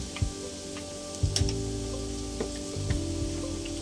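Shrimp fried rice sizzles softly in a hot pan as sesame oil goes in, a faint steady crackle broken by a few light clicks and taps of a utensil.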